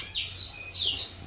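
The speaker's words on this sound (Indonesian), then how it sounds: "Indukan jantan murai batu" An adult male white-rumped shama of the Aceh type gives a few short, clear whistled chirps, close and fairly loud, over a low steady background hum.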